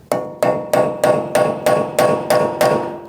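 A hammer striking a punch to unpeen the rear axle nut on a 2008-2014 Mercedes-Benz C300, nine sharp metallic blows at an even, fairly quick rhythm, close and loud.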